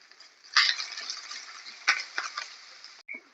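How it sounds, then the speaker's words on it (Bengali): Chopped capsicum and onions sizzle in a frying pan while being stirred, with a soft steady crackle broken by several louder scraping strokes, ending in a brief clink. "এর মধ্যে আমি দিয়ে দেবো ক্যাপসিকাম কুচি। এটাও একটু ভালো করে নাড়াচাড়া করবো।"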